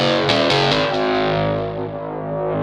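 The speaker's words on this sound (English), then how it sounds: "It's almost like a fake bath cheesy guitar" A free software synth patch with FM and boosted distortion plays a gritty, buzzy bass line, a few loud attacked notes ringing out and then sustaining, with chorus-like effects and no talk.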